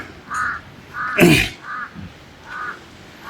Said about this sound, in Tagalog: Ito yung uwak.